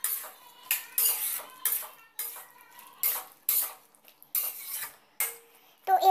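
Chickpeas and capsicum stirred in a pan, a spoon scraping and clinking against metal in a run of about nine sharp bursts with quiet gaps between, close and moderately loud, no voices.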